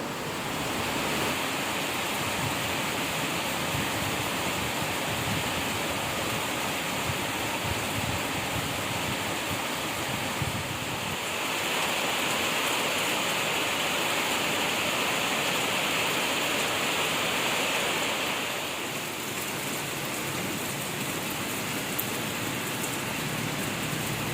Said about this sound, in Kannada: ಇವಾಗಲೂ ಹೊರಗಡೆ ಅದೇ ಥರ ಮಳೆ ಬರ್ತಾ ಇದೆ